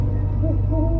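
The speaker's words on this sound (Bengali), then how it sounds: "দূর থেকে ভেসে আসছে শুধু ঝিঝি পোকা আর প্যাঁচার ডাক।" A cartoon owl hooting at night, a single short, loud, rounded hoot that rises and wavers, heard alone.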